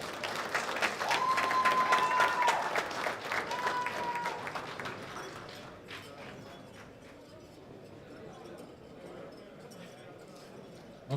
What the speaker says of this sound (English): Big applause for this very, very strong lifter.